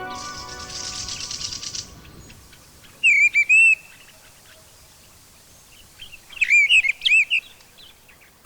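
A common quail sings in two separate bursts of bright, clipped notes, each lasting about a second, against a quiet outdoor background after an early stretch of low noise.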